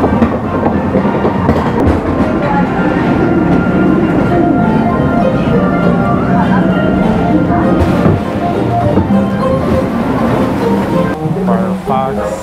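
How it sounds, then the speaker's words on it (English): A train rolls past during a Disneyland ride, a continuous rumbling clatter of wheels heard over the ride's own noise, with voices of riders mixed in throughout. "There goes the train."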